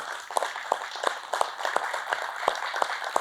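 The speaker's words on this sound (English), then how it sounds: "I'd like you all to stand and give yourself a round of applause" A standing audience at a celebration of non-profits gives a round of applause, with scattered individual claps spread evenly throughout, fairly close and moderately loud.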